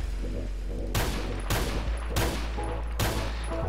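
Four loud, punchy Desert Eagle pistol shots from the Roblox game Phantom Forces, evenly spaced about half a second apart over a steady low in-game rumble.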